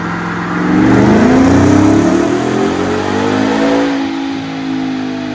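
A 2023 Ford Raptor R with a 5.2L V8 revs hard on a dyno, rising in pitch as it climbs through the run, then easing off to a lower drone, loud and close with no talk.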